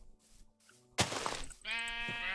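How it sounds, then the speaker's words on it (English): Sheep in the game Minecraft bleat in short, close, clear cries, with a sharp hit sound just before the last loud bleat. "I'm sure they won't mind me killing that sheep."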